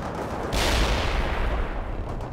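Artillery fire striking target coordinates in the real-time strategy game World in Conflict, a dense roaring barrage of booms that swells suddenly and rumbles on, loud and heavy with no voices.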